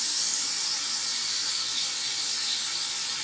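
Yogurt hits meat frying in a pot and sets off a loud, steady, close hiss of sizzling that holds evenly throughout without pause or talk.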